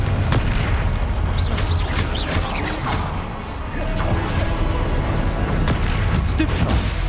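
A Confringo blasting spell in Hogwarts Legacy detonates amid combat, with deep booming blasts and crashing debris layered over dense rumbling action sounds, loud and continuous with brief whooshing spell effects.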